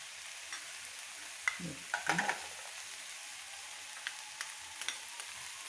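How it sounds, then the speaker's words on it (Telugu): Coriander powder and salt fry in a pan for a Rayalaseema-style goat offal and liver curry, a quiet sizzling hiss with a brief cluster of spoon scrapes and clinks, close and without talk. "ఇదంతా కూడా బాగా వేయించుకోవాలి"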